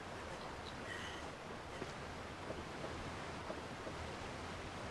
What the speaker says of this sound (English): It's a waterfall in an RPG.